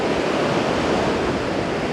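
Loud sea surf rolls in as a steady, dense roar of breaking waves close by, with no pauses or voices over the full stretch.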